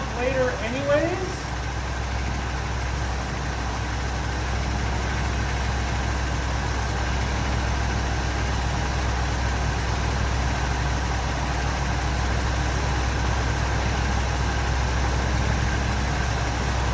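A 1966 Imperial Crown car engine idles steadily at close range, a low continuous rumble with a faint whine that holds for the whole stretch, with a brief voice-like sound near the start.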